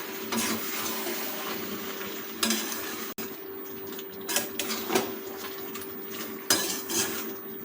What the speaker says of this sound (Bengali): এটাকে খুন্তিতে বেশ কিছুক্ষণ কষ নাড়িয়ে নেব